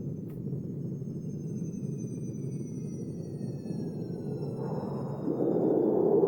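Jet plane sound effect played from a Roland GO KEYS 3 keyboard, a continuous roaring rumble with thin descending whistling tones above, swelling louder near the end, heard alone without voices.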